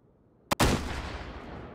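A single loud gunshot in the Hot Dogs, Horseshoes & Hand Grenades VR video game, a sharp crack followed by a long booming echo that slowly fades.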